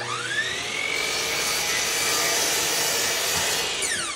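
A power saw cutting out a wooden part for a computer case, a loud continuous whining buzz with a rising pitch at the start, running steadily alone until the blade winds down at the end.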